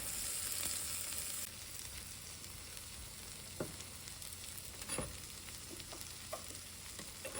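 A cheese omelette sizzles steadily in a pan, a constant close frying hiss broken by a few soft clicks and scrapes of a bamboo spatula.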